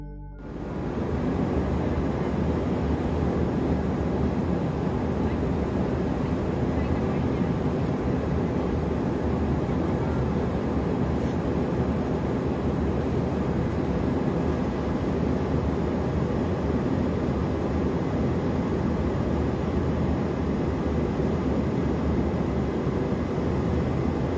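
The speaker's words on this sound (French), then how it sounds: "L'avion dans lequel Jen se trouve est en pleine altitude" A steady, broadband roar fills the cabin of an airplane in flight, constant and unbroken throughout, with no voices.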